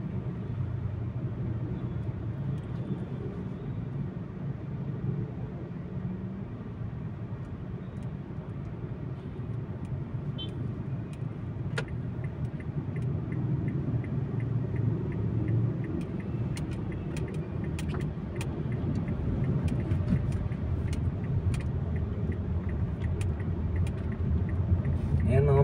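Dense traffic rumbles around a busy Katipunan intersection, a continuous low drone of many vehicle engines that swells slightly over time, with scattered clicks and someone speaking over it.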